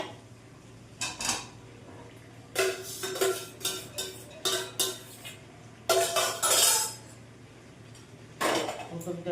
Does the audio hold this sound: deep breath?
no